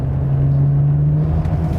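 Ferrari 599 GTB Fiorano being driven, a steady, loud low engine drone with a constant hum that holds for the whole stretch, no voices over it.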